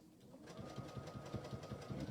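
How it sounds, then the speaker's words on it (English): A sewing machine stitches fabric, a fast steady mechanical chatter that starts after a brief pause and keeps running close by without talk. "So I'm going to start stitching here."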